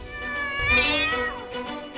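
A stage performer mimics a cat with one long, strained, wavering meow that swells in the middle and trails off, up close and alone.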